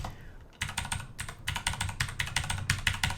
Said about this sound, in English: So I was typing without talking about what I was typing about.